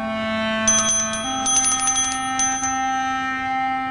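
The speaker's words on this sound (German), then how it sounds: "muss er mit der Klingel Eintritt erbitten" A small bell rung to ask for entry to an empress's bedroom chimes in quick clustered strikes, bright and close, over a sustained background tone.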